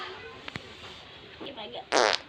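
A woman breaks wind in a comedic Maithili home scene, with a short sputtering burst near the end after a couple of faint clicks, close and fairly loud.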